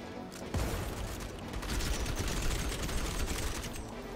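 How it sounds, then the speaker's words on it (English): Machine gun turret in the game Outpost Infinity Siege firing a dense, sustained stream of rapid shots close by, loud and continuous for several seconds without talk. "Machine gun turret, bro."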